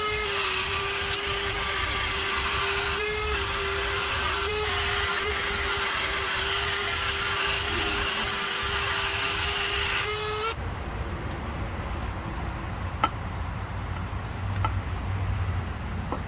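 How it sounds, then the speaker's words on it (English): A Dremel rotary tool with a small sanding pad grinds on a part during a wheel bearing replacement on a 1998 Honda Odyssey. A loud, steady motor whine runs for about ten seconds, then cuts off and leaves a quieter background hum. "I think I'm going to break out the Dremel."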